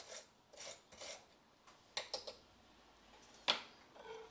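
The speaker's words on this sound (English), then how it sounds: "I generally use a file. I'm not looking to take any thickness off the metal, but it's just a good tool to quickly remove any surface rust." A hand file scrapes surface rust off brake caliper parts from a 2012 Kia Picanto 1.2 petrol rear brake job, a series of short, quiet rasping strokes with small metallic ticks and one sharper clink.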